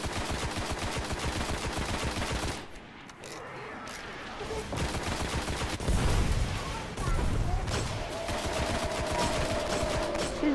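Rapid gunfire bursts from the video game Destiny, dense repeated shots filling most of the clip with a brief lull around the third second, loud and close, with voices talking over it.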